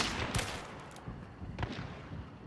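Pistol shots fired in an online battle royale duos match, two sharp reports about a second apart over steady game ambience, the first one loud and close.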